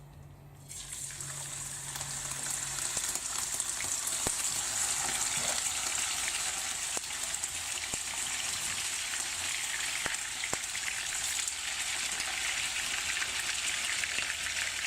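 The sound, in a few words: bacon frying in lard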